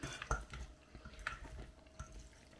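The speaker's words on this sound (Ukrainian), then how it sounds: "Шкварочки на дні, їх потрібно трішки все-таки перемішати лопаткою" Pork cracklings are stirred in a pan with a spatula, faint scattered scrapes and taps of the utensil against the pan, irregular and quiet.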